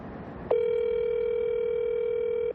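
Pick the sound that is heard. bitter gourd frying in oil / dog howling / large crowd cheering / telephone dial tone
telephone dial tone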